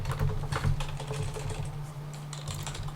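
Fast, continuous clatter of keys on a computer keyboard, close and steady for the whole stretch over a low electrical hum.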